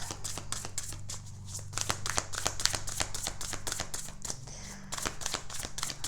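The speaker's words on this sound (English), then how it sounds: "Let me shuffle this." Tarot cards are shuffled by hand in quick repeated riffles and taps, a close, crisp flurry of card strikes running steadily for several seconds without speech.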